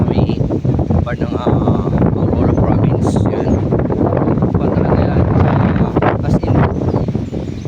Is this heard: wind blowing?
yes